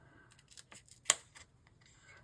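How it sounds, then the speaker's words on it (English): Scissors snipping paper for an art journal page, a few soft quiet cuts with one sharper, louder snip near the middle, fairly close and alone. "Now I want to cut this space out here."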